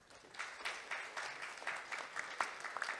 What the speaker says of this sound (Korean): 오늘 좋은 발표해 주신 네 분께 감사의 박수 한번